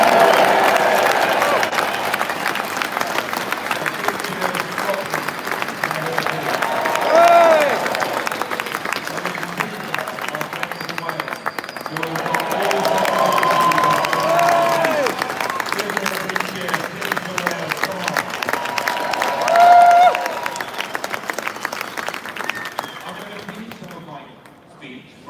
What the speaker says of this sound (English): just give them a big cheer